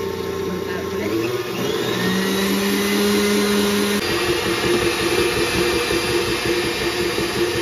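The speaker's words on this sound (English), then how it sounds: "So I'm just going to do a half cup of heavy cream in the mixer." A stand mixer whips heavy cream with a steady, loud motor whir that runs the whole time, with a slight shift in pitch partway through.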